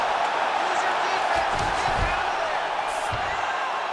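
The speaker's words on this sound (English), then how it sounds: "The crowd's going crazy." A virtual arena crowd in the UFC 5 fighting game roars in a dense, steady wash of cheering, with a few thumps and a sharp burst near the end, all under commentary voices.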